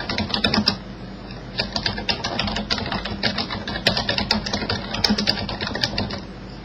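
Rapid typing on a computer keyboard, close and clear, a dense run of clicking keystrokes in uneven bursts with short gaps, over a low steady background hum.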